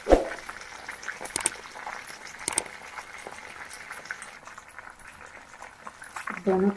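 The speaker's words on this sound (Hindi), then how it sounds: "इससे अब तमाम लेग पीस फ्राई हो गए हैं" Tandoori chicken leg pieces fry in a pan with a constant bubbling sizzle and a few sharp spits, and a voice comes in briefly near the end.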